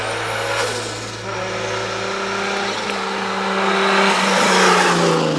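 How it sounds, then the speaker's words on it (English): Nissan 240SX drift car with a 1JZ engine, a loud sustained engine drone with shifting pitch and rising intensity toward the end, close by and continuous. "So I built my 240SX with a 1JZ."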